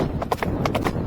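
Horse hooves clip-clop in a quick, close trotting rhythm over a steady background rumble, with no clear voices.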